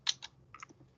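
Keys pressed on a TI-34 calculator: a few quick, light plastic taps in an irregular burst, close and fairly quiet against a silent room.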